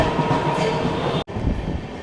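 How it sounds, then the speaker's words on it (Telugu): A train rolls past alongside near Kacheguda railway station, a dense, continuous rumble and rattle of wheels and cars, loud and close, cut by one brief dropout before the roar resumes. "మన పక్కన అయితే ట్రైన్ అయితే పోతుంది"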